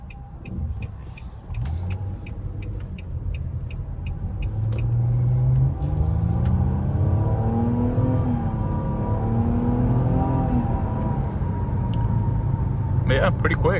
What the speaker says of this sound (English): the exhaust just sounds really raspy in these